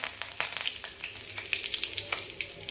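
Curry leaves crackling and sizzling in hot oil with cumin seeds in a pan for a spicy brinjal curry, a busy stream of sharp pops and spits over a steady fry hiss.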